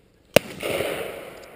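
A single sharp shotgun report at a driven pheasant and partridge shoot in Herefordshire, a loud close crack followed by a rolling echo that fades over about a second outdoors.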